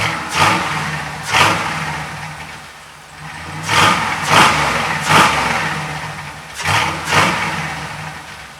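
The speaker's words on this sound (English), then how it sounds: "give you guys some revs" LS-swapped 1966 Chevy El Camino warmed up and revved in repeated bursts: a loud, close engine rising sharply and settling back to idle about six times, with no voices.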